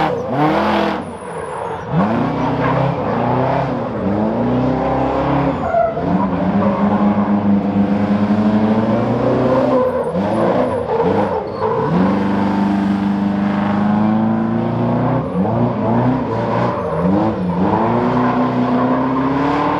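Ford F100 truck with a detuned engine, revving hard and squealing its tires through a crash, a loud continuous engine roar with rising and falling pitch sweeps and tire screech throughout.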